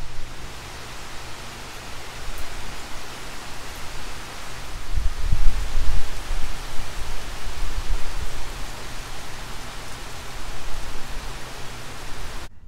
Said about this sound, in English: I am not sure this rain is going to pass before the sun sets